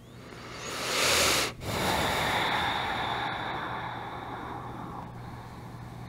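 Someone doing hip stretching practice takes a deep, close breath: an airy inhale swelling within the first second and a long, fading exhale through the rest of the clip, with no talking.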